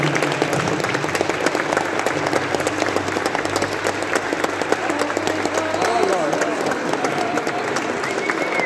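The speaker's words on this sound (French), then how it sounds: "nous pouvons applaudir Teddy et Jessica pour leur mariage." Wedding guests at a ceremony break into continuous, lively applause with some crowd murmur, the clapping dense and steady from start to end.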